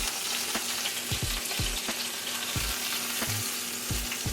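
Chicken frying in hot oil in a pan gives a loud, constant sizzle, broken by sharp pops and spatters every half second or so, close up with no talking.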